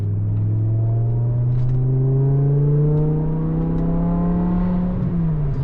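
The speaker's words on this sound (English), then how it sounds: "it's just pure bliss, like that V10" A BMW E60 M5's V10 engine revs smoothly and loudly up close, pitch climbing steadily and then dropping off at the end.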